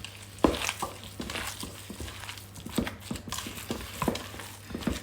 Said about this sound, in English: We're going to give that a good mix up.